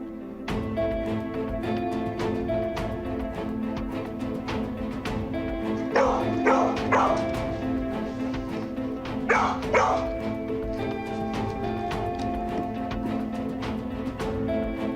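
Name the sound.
dog barking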